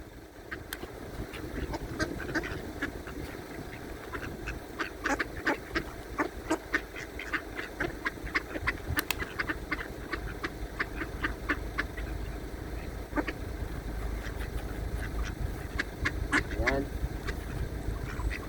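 Faint ducks quack again and again in the distance over a steady low background rumble, in the Irish countryside.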